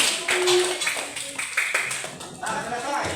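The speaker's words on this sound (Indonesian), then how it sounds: "Tepuk tangan lagi untuk kita semua" A group claps along at a school session on positive culture, with uneven, moderately loud taps mixed with voices talking over them.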